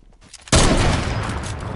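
Sniper rifle gunfire from Fortnite: a single loud, sudden blast halfway through, followed by a sustained noisy rumble and clatter that stays strong to the end.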